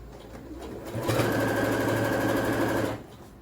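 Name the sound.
sewing machine stitching a door mat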